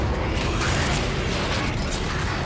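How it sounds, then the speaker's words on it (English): Dense metallic clanking and whirring machinery from a Transformers video game world fill a short, continuous burst of mechanical noise with no talking. "a foreign-feeling world full of wonderful metallic backdrops and mechanical noises and movements"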